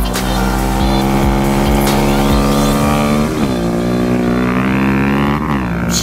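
Honda Grom mini bike engine on the Atlanta Motorsports Park race track, a loud, buzzing single-cylinder whine that climbs through the gears with short shift breaks, then revs up again.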